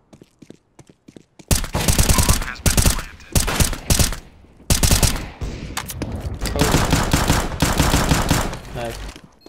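Rapid bursts of gunfire from Counter-Strike: Global Offensive, loud and close, with automatic rattles and single shots in clusters separated by brief gaps.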